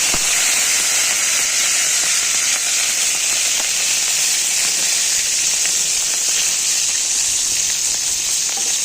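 Black cumin seeds and curry leaves sizzling in hot oil in a pan, a loud continuous bright frying hiss with faint crackles, close and steady throughout, no voices.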